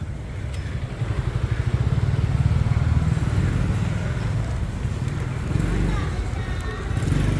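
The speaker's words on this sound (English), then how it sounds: "You just gotta watch the motorbikes." Motorbikes and other traffic rumble past on a busy Bangkok street at night, a steady loud engine drone with passing swells, under occasional talk.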